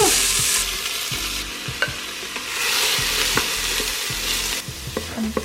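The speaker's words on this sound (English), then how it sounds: "I'm gonna add the onion and cook for 2 minutes." Chopped onion sizzles and crackles in hot olive oil inside an Instant Pot, with steady frying hiss and repeated scraping and knocking of a stirring utensil close by.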